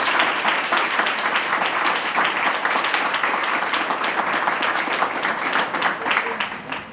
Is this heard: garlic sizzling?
no